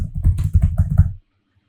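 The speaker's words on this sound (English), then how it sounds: "So I'm just typing everything for your good understanding." Typing on a computer keyboard, with a quick burst of close, rapid keystrokes over about a second before stopping into silence.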